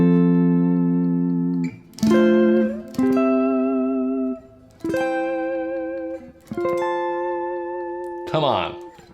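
Electric guitar strums a sequence of sustained root-position chords, five or six in a row, each ringing out with rich reverb before the next, the last ending in a brief scrape.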